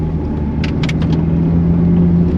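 A Ferrari 430 Spider drives along as a loud, steady engine drone heard from inside the car, with a few brief higher ticks partway through and no talking.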